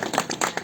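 Short burst of clapping from a small group at an outdoor party gathering, several quick irregular claps over less than a second.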